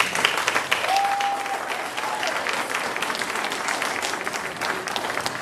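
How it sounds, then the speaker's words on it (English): Concert audience at a university spring pops concert applauding the Philharmonic Choir, sustained crisp clapping from a sizable crowd, steady and fairly close, with a brief faint tone early on. "round of applause for our Philharmonic Choir."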